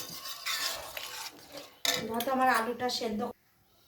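Boiled potatoes being stirred in a pan after hot water is added for aloo dum, with metal utensil scrapes and clinks against the pan, brief bursts of activity that end abruptly, along with a voice talking.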